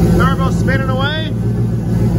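A turbocharged LS engine fitted in a Caravan runs at a steady idle, its constant low rumble filling the clip while someone talks over it near the start.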